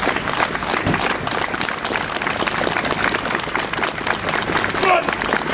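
Street show crowd at a festival of light in Huddersfield applauding, a dense continuous wash of clapping heard at a distance, steady and loud throughout, with a performer's voice calling out over it.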